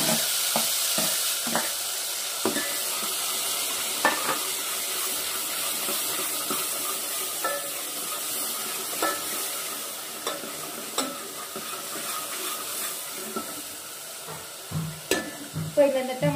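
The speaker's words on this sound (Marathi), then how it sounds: "टमाटा आणि कांदा पेस्ट टाकली। आता ह्याला चांगलं लालसर होऊन द्यायचं" Tomato and onion paste frying in a pan for a home-style chicken curry gives a steady close sizzle, broken by irregular scrapes and taps of stirring.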